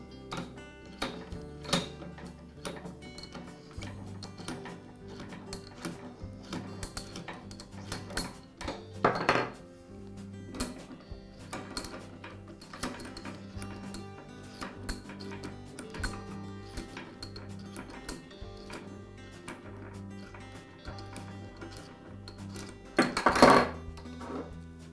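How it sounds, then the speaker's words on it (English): Metallic clanks, ticks and scraping as locking handles are taken off a Wilton vise and its top half is lifted from the swivel base, scattered clicks throughout with a couple of louder clunks, no speech. "I'll begin by removing the two locking handles and separating the top half of the vise"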